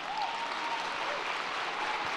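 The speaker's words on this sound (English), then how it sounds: "I think the applause should be for him because they didn't hit him." Star Wars Celebration audience applauding in a large hall, a steady dense wash of clapping sustained at even loudness through the whole stretch.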